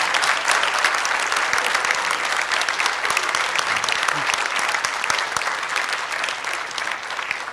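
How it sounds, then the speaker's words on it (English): Audience applause fills a hall during an address by Aung San Suu Kyi of Myanmar, a dense, steady wash of many hands clapping for several seconds, loud and continuous with no speech over it. "Who wanted to applaud?"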